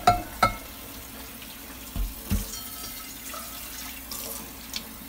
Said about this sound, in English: let's pull this out, and also wash the bean